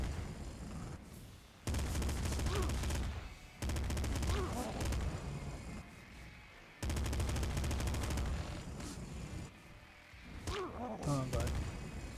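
Rapid shotgun blasts in the top-down shooter video game Nuclear Throne come in dense bursts with short pauses, loud and up front, along with crunchy impacts and game effects.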